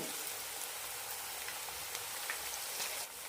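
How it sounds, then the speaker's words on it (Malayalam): Small cabbage pakoda balls fry in hot oil on a low flame, making a steady, dense, rain-like sizzle with faint pops throughout and no voices. "ഇതുപോലെ ചെറിയ ഉരുളകളാക്കി ഇട്ട് കൊടുക്കാം ലോ ഫ്ലെയിമിലിട്ടിട്ട് വേണം ഫ്രൈ ചെയ്തെടുക്കാൻ"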